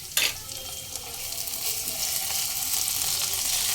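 Ginger garlic paste with onion and green chilli frying over a low flame opens with a sharp clatter, then settles into a close, steady sizzle with occasional stirring scrapes, no voices.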